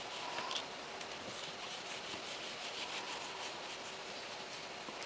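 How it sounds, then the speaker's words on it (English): An ink pad scrapes across scored paper to make a wood plank background, giving a soft, steady rubbing hiss that runs close and quiet for several seconds with no talking. "you want the edge of the ink pad to kind of scrape across those open areas"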